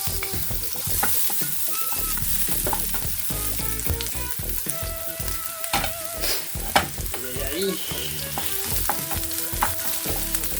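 Onion sautéing in oil in a pan, a steady, fairly loud crackling sizzle with frequent spatter pops and occasional utensil clinks throughout, with no voices.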